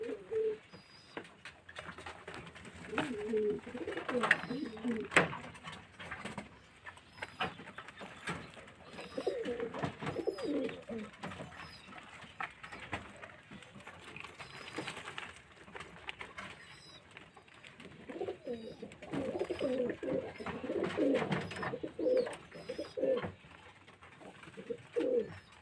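Pigeons coo repeatedly in their loft, soft rolling calls overlapping in an uneven rhythm, close and moderately loud, with no talking.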